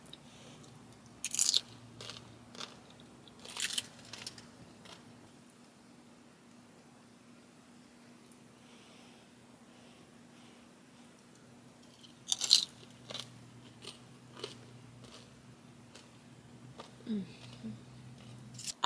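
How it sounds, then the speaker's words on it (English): Crunchy homemade chips are bitten and chewed alongside taco soup in a van kitchen, giving a few sharp, close crunches spaced apart over a quiet background with a low steady hum. "And my chips have a nice little crunch."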